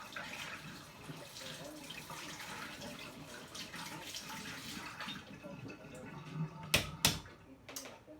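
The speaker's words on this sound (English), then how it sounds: "here's my water filtration system" Water runs steadily from a water filtration system tap into a sink, a soft continuous splashing, followed near the end by a few sharp clicks.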